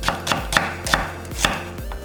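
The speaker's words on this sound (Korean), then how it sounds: "양파 작은 거 1개 살짝 굵게 채 썰기" Quick, regular knife strokes slicing a small onion hit a cutting board about eight times in two seconds, a crisp steady chopping rhythm heard close up.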